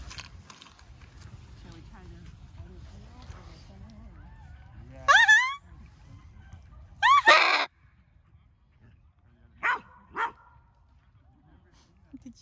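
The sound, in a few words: dog barking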